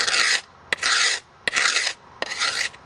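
Bamboo is scraped to make tinder in four rhythmic, close rasping strokes. Each harsh scrape lasts about half a second, with short pauses and small clicks between them.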